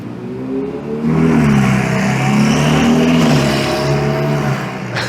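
A car turns around on Yonge Street in midtown Toronto and accelerates, its engine note rising and revving loudly and close for several seconds, with no talking.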